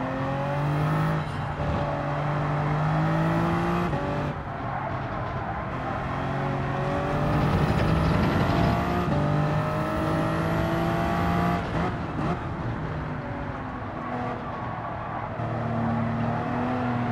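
A race car engine held at full throttle at Spa in Gran Turismo 7, a loud, sustained high-revving whine that climbs and drops through gear changes, with brief shifts and a steady drone between them.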